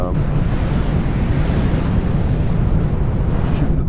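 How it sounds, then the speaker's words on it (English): Missiles and torpedoes detonating in a naval combat video game: a steady, heavy wash of explosion rumble and roaring noise, loud and continuous throughout, with no distinct separate blasts standing out. "there's just a massive amount of missiles and torpedoes and everything coming out here"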